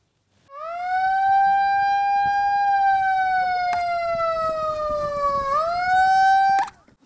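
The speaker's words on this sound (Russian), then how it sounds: "По звуку сирены участники слета спешат на построение." A siren wails at a tent camp rally to call participants to assembly, a single loud, sustained rising tone that holds, dips slightly and swells again before cutting off.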